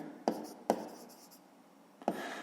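A pen writes numbers on paper while a fifth-grade math exercise is solved, three short scratchy strokes with pauses between them, close and quiet with no talk.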